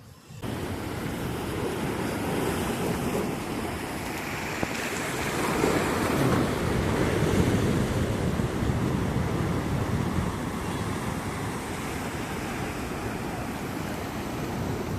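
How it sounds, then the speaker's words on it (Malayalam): Rough, choppy open sea on a fishing trip makes a continuous broadband roar of waves and wind, swelling midway and then settling, with no voices. "ഇപ്പോൾ കടൽ നല്ല ഇളക്കമുണ്ട്"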